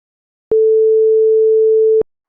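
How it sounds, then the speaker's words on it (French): A telephone tone sounds as a call is placed on a second phone: a single pure, steady beep lasting about a second and a half, starting and stopping abruptly in otherwise silent surroundings. "Il appelle son avocat avec son second téléphone."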